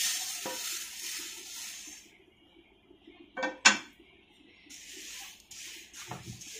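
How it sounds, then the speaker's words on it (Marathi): Moong dal being dry-roasted and stirred in a pan, soft grainy shuffling with a few sharp metallic clinks of a spoon against the pan, close and fairly quiet, no voices. "एक ते 2 मिनिट फक्त आपल्याला इथे डाळ भाजून घ्यायची"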